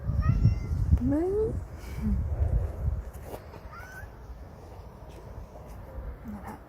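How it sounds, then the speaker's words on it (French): A cat meows several times in short rising calls, fairly close, over wind noise and a person talking in the background. "j'ai un petit chat qui veut aussi faire des photos"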